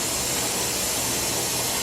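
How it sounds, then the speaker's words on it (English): Steam vents from a Presto pressure canner in a steady, loud, continuous hiss with no break or change. "there seems to be plenty of force and good steady stream of air or steam coming through"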